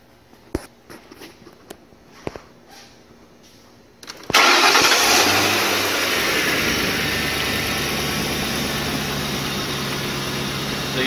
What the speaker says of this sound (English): So we're going to go ahead and start the car and get our waveform.